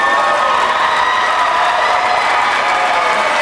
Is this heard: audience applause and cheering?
yes